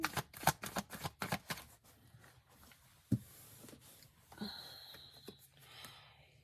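Tarot cards riffle and slap in a rapid flurry of crisp shuffles for about two seconds, then a few softer flicks and card placements follow in a quiet room.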